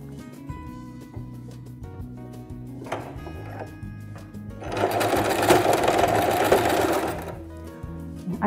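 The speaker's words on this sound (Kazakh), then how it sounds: "Қадап алғаннан кейін тігеміз. Біріктіріп тігеміз." A sewing machine stitching turban fabric starts with quiet handling noise, then breaks into a close, rapid, steady needle whir for a couple of seconds before stopping.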